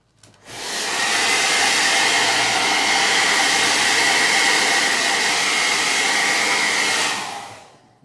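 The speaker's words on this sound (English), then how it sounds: "And I hit this with my blow dryer." A handheld blow dryer switched on to dry thin stencil paint for a DIY kitchen conversion chart, a loud, steady whooshing roar starting abruptly, holding for about six seconds, then cutting off.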